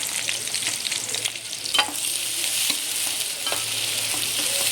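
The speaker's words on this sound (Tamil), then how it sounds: "வெங்காயம் பச்சை மிளகாய் போட்டு நல்லா வதக்கிக்கிறேன்." Onions and green chilies sauté with salt in a pan, a steady close sizzle broken by occasional scraping stirs from a utensil, with no voices.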